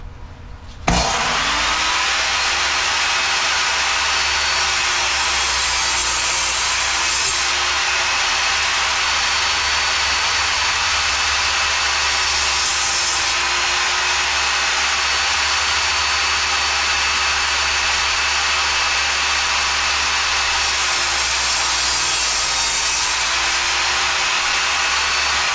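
A table saw spins up abruptly and runs with a loud, steady whine for over twenty seconds, with slight swells in pitch as wood is cross cut on a sled, no voices present.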